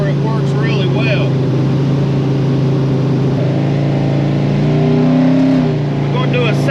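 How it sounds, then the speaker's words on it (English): Ford F100 truck engine pulls hard in second gear, a loud steady roar with rising pitch and a swelling rumble near the end, while a voice talks over it. "Do a second gear roll for you."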